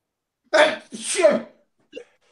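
A single loud, close sneeze bursts out sharply, followed after a brief pause by a short, quiet vocal sound.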